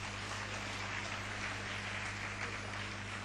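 Audience at the Global HR Summit 2010 corporate meet claps together, making a thick, steady roar of applause that holds evenly for about three seconds over a low electrical hum.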